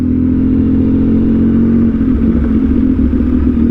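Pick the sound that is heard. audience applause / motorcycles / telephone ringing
motorcycles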